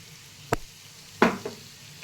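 Bay leaves and asafoetida dropped into hot oil, giving two or three short crackling sizzle bursts separated by quiet pauses.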